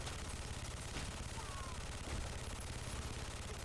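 Rapid machine-gun fire rattles in the Narco Terror video game, a continuous rumbling stream of shots at a steady, moderate level with no clear pauses.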